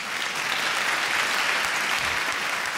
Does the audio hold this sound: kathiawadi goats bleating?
no